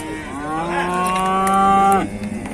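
A calf at the Beylagan livestock market gives one long, loud moo that rises and holds before cutting off sharply, close by and clear of talk.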